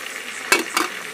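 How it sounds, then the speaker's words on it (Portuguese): Chicken wings and drumsticks frying in a pan, a steady close crackling sizzle with two brief louder spits of oil. "Tô fritando mais aqui, tá vendo?"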